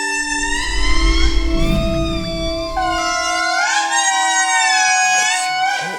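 Lemurs give loud wailing calls from their large vocal sacs, several overlapping siren-like howls rising and falling in pitch, loud and sustained with a low rumble underneath at first.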